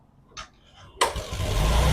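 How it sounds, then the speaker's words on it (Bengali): A Bajaj Discover 125 motorcycle engine cranks and catches about a second in, after a brief faint sound, then settles into a close, steady running rumble. "স্টার্ট দেন তো একটু, ইঞ্জিনের সাউন্ডটা শুনেন"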